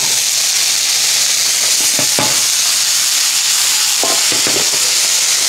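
An egg frying in oil in an iron pan gives a loud, continuous close sizzle with a few short crackling pops, and no voices.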